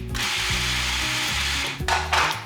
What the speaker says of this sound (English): I'm going to pulse all this together once again.